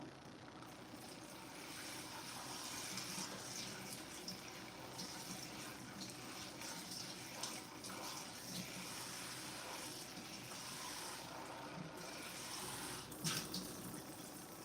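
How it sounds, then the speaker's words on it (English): A mixing bowl rinsed under running water at a kitchen tap, a steady faint rush of water with small splashes, continuous and without talk. "I'm gonna rinse this out, clean it, so we can reuse this bowl."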